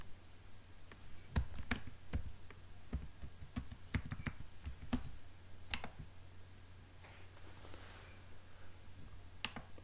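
Login typed on a computer keyboard: irregular bursts of sharp key clicks, some in quick clusters, others spaced apart, close and fairly quiet over a steady low hum.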